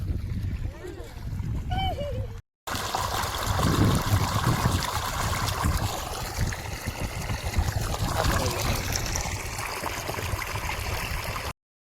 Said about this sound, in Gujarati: આપણા બગીચામાં આખામાં પાણી વારી દીધું